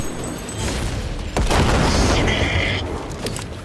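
A missile explosion in Cyberpunk 2077 lands as a sudden loud boom mid-clip, with a rumbling tail and scattered mechanical clatter before and after, alone without talk.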